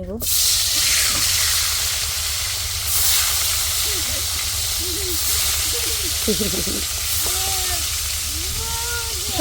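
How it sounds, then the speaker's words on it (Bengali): Hilsa fish frying in a home kitchen at midday, a steady close hiss of hot oil sizzling throughout, with brief voices and a child's sounds cutting in over it in the second half. "এখানে হলো ইলিশ মাছ ভাজা"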